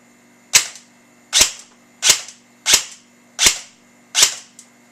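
A KWA KM16 airsoft rifle fires six short full-auto bursts through a smooth gearbox, each a sharp, loud burst of rapid cracks with a quick decay, spaced evenly with brief gaps and no talking.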